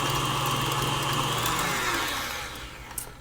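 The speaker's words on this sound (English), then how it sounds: "So mix that for about 2 minutes until well combined on high." An electric mixer whirs on high speed through keto gingerbread cheesecake filling, a steady loud motor drone that slowly eases off toward the end, followed by a small clink.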